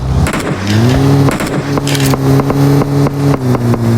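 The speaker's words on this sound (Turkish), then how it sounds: "Aa bir araba mı geldi?" A car engine in PUBG Mobile drones loudly and steadily with rising and falling revs and small shifts in pitch, close up and alone, with no talk over it.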